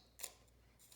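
One quick, close snip of scissors cutting through paper for a collage, heard alone in an otherwise quiet room.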